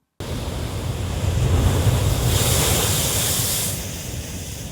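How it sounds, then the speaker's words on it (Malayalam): Strong sea surge waves crash and surge against the Kerala coast at Kollam and Alappuzha, a continuous loud roar of surf with wind noise, swelling in the middle and easing slightly toward the end, with no voices. "കൊല്ലത്തും ആലപ്പുഴയുടെ തീരത്തും ശക്തമായ കടലാക്രമണം"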